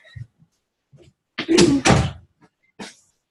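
A door closes with a short, solid thud and clatter near the middle, preceded by small scuffs and handling knocks, then a brief faint knock after.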